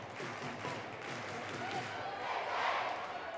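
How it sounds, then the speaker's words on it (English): Stadium crowd at Manchester City v Everton in 2023 roaring after a Manchester City goal, a dense, steady wash of cheering that swells slightly toward the end. "And that's woken up the crowd here."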